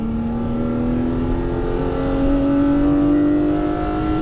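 A BMW E36 M3 engine revs hard on a race track, its rising harmonic note climbing steadily and loud throughout as the car accelerates, with no talking over it.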